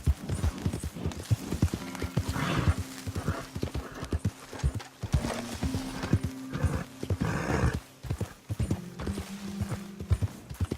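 Horse hooves clip-clop in a steady, close rhythm through Red Dead Redemption 2 gameplay, with a brief whinny mixed in and sustained musical or ambient tones running underneath.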